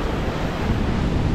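Sea waves at Thuận An beach near Huế make a steady rushing wash of surf, with wind buffeting the microphone and no talk.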